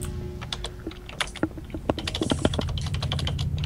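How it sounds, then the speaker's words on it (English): Rapid clicking of a computer keyboard being typed on, a steady close flurry of keystrokes with a low background hum beneath. "there's definitely somebody typing"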